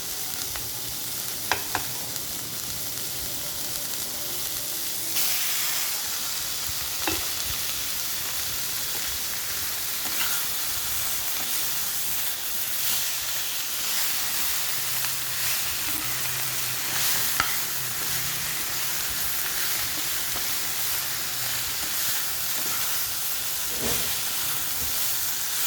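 Chicken pieces hit a pan of sautéed vegetables and sizzle steadily, a dense close frying hiss with occasional stirring scrapes and no talking throughout.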